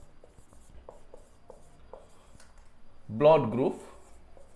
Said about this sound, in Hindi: पहले लिख लेता हूं यहां पे